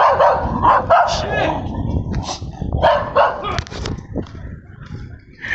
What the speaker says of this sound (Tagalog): Habulin pa ako ng aso.